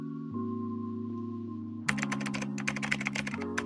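Someone types an image prompt on a computer keyboard, a quick run of close, crisp key clicks starting partway through over soft, steady background music.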